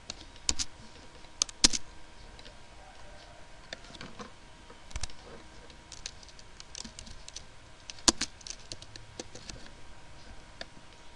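Sparse, quiet keyboard typing at a computer while entering chart values in PowerPoint, isolated clicks and short bursts of keystrokes spread over a low room hiss, with no talking.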